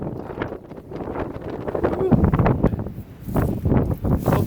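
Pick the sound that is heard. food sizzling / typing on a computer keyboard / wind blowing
wind blowing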